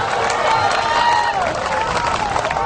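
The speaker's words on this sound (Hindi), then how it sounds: "अरे ताली तो बजाओ जा।" Audience applause and cheering at a stage event in Mumbai, a dense steady wash of clapping from a large crowd lasting throughout, with some voices mixed in.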